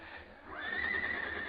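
A horse whinnies as a sound effect in a 1952 western radio drama, a single rising, shrill neigh lasting about a second against a faint low background.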